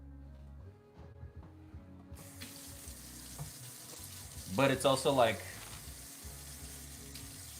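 A kitchen tap runs water in short bursts during salmon prep, a splashing hiss that swells for about a second near the middle amid background kitchen noise and a person talking.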